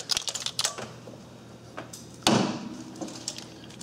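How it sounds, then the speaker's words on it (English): Cutters snip a plastic tie wrap holding the wiring harness to the fuel rail on a Suzuki Forenza engine. A few light clicks and rattles lead to one sharp snap partway through, followed by faint handling noises. "I have a tie wrap right here that's tying the harness to the rail, so I'm just going to go ahead and cut that"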